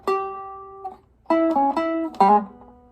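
A variation on an early Chicago electric blues turnaround on electric guitar, with a held note, a brief pause, then a few quick sliding double-stops, clean, close and unaccompanied.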